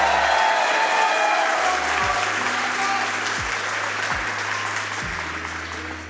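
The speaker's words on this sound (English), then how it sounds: "let's hear it for Big the Cat one time for the crowd." Steady applause from a live crowd at Summer Games Done Quick 2023, dense and continuous clapping that slowly fades, with a low musical tone underneath.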